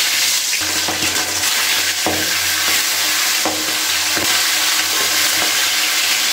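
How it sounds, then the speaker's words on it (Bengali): Pieces of aar fish fry in hot oil in a wok, making a loud, constant crackling sizzle with a few brief scrapes and stirs, and no talking. "এবার আমি মাছগুলোকে ভালো করে ভেজে নিচ্ছি।"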